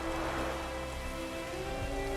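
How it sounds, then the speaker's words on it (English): Rain in The Witcher 3 pours steadily with a dense, even hiss of falling drops, loud and alone throughout. "Oh, Connie, you've never seen this one in the rain like this"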